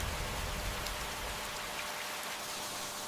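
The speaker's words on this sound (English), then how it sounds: "Raindrops smash into leaves with sheer force in slow motion." Torrential rain pelts the leaves of the Amazon jungle in a dense, loud, unbroken hiss of countless drops, steady throughout with no voices.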